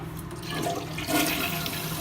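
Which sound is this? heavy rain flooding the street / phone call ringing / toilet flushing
toilet flushing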